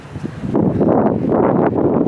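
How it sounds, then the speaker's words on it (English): Wind gusts buffet the microphone of someone walking toward the beach, producing a dense, loud roar that swells after a brief quieter start and then stays steady, with no talk. "And it's windy."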